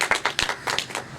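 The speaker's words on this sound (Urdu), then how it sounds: "بھرپور تالیوں میں" A few scattered rounds of audience clapping at an Urdu poetry recitation gathering, with sharp, close hand claps coming in quick uneven bursts over a short moment.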